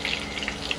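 Coated chicken legs frying KFC-style in hot oil give a dense, even crackling sizzle that holds steady and close throughout the short moment.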